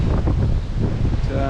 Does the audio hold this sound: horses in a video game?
no